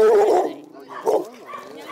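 A dog at a small-animal shelter in Jelenia Góra gives a few short, close barks and whimpers in quick succession, mixed in with a person talking.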